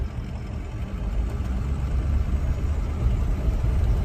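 A 2007 Ford E350 van with an automatic transmission, two-wheel drive and about 188,000 miles sits idling, giving a steady, low engine rumble with a faint whir that holds evenly throughout, no talking.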